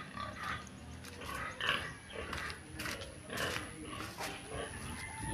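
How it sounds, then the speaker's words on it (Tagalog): A pig grunts in short, faint bursts at a distance, the grunts spaced irregularly against a steady background hum, with no clear talk. "Nakatanaw ang baboy."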